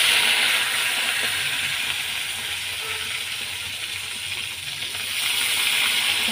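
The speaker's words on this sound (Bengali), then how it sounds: "কড়াইতে তেল গরম হয়ে গেছে, এখন আমি একটু পেঁয়াজ সম্বরা দেব। পেঁয়াজ, লঙ্কা, তেজপাতা।" Onion, chili and bay leaf hitting hot oil in a kadai for shol fish curry with bottle gourd, a soft continuous hiss that dips slightly, then swells again near the end.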